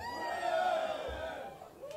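A festival crowd at Glastonbury 2014 cheers and shouts together in a sustained, fairly close swell that eases off toward the end.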